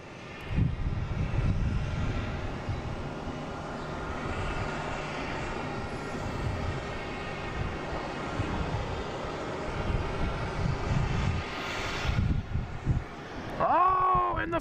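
Delta flight 5707 from Cincinnati arriving at Boston Logan, a steady broad jet roar holding at moderate level for most of the stretch, with a brief rising whine near the end.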